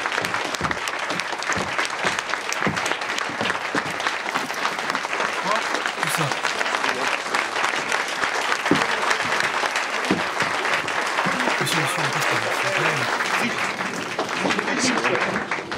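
A live audience bursts into loud, sustained applause, a dense wash of clapping that continues without a break, with voices mixed in underneath.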